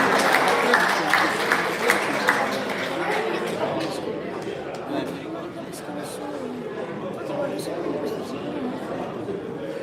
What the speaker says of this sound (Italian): Un bel applauso a questo match super femminile